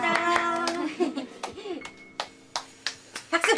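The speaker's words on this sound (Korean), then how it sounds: "박수" Scattered hand claps ring out under cheerful voices and a tonal chime, the claps growing into a sparse run of single sharp slaps near the end.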